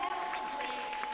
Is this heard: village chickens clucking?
no